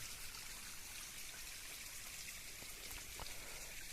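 Steady trickling water over a small forest waterfall running low after rain, a continuous bright splashing hiss with a few sharper drips, fairly close and alone without voices.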